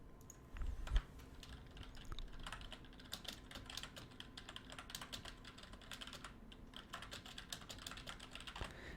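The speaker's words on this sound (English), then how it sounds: "Get some keyboard ASMR in there for you." Dense, steady typing on a computer keyboard during a break between Hearthstone games, rapid key clicks running throughout with a few louder taps, close and alone with no voice.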